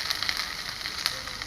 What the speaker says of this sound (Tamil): onions are salted well. add some ginger garlic paste